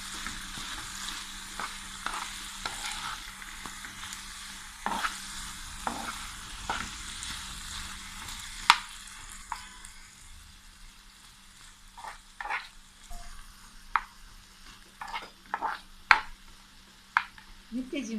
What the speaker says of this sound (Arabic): ببصلة شرايح رفيعة، وبرضه هديها تشويحة مع البصل